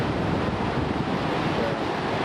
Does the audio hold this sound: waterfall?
yes